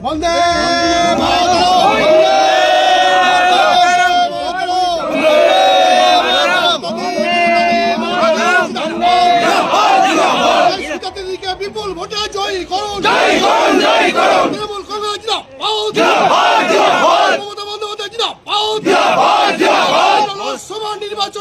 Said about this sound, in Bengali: একটু দেবাকে বলবো স্লোগান দেওয়ার জন্য